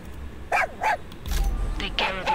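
A dog in Far Cry 6 barks a few short, separate times nearby in a camp setting, followed by a brief vocal sound and more yips.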